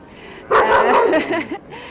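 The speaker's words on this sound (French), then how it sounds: "ça ce sont mes chiens, excusez-moi" Several dogs barking and yipping in a short burst close by, breaking over a quiet background for about a second before fading.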